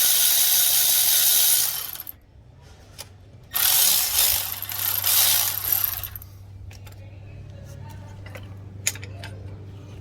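Ratchet wrench working a seized glow plug loose on a 2008 Isuzu NPR engine, with loud bursts of clicking and grinding metal separated by quieter stretches, plus scattered sharp clicks and a low steady hum.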